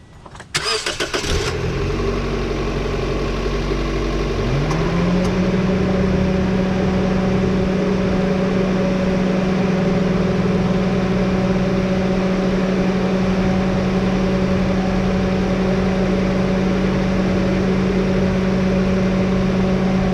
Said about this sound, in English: we're just going to give it a quick start